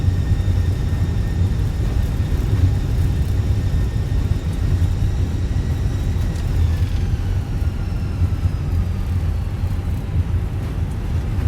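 Airbus A320 on landing rollout in Microsoft Flight Simulator, engines in reverse thrust: a steady, heavy roar with deep rumble and a faint whine that slides downward as the aircraft slows, continuous with no voices.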